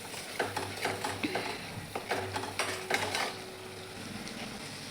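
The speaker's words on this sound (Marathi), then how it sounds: "मसाला व्यवस्थित तळला गेला आहे." Masala spices with garam masala and turmeric fry in hot oil in a pan for a chavali and potato curry, with soft sizzling and intermittent scraping stir strokes close by, no talk.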